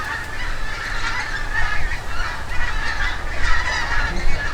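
A large flock of geese passes overhead in the countryside, dozens of honks overlapping in a loud, continuous chorus over a low steady rumble, with no talking.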